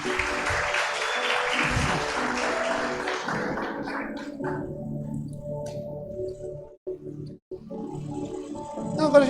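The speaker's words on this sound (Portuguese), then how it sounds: "Dá uma salva de palmas para a mídia da nossa igreja." A church congregation applauds the media team, a broad burst of clapping that fades over the first few seconds into quieter murmuring and low room noise.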